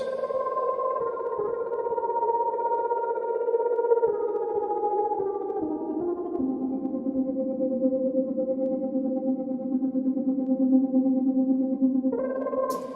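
A dry, sustained synth lead line plays alone, slowly moving between held tones with a steady, even level and no talking.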